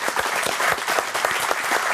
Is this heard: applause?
yes